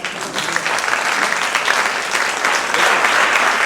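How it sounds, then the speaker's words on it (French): A comedy festival audience in Mantes applauding comedian Mathieu Schalk as he walks on, dense sustained clapping that holds loud and steady throughout, with a faint crowd murmur underneath. "je vous demande d'applaudir et d'accueillir Mathieu Chalk"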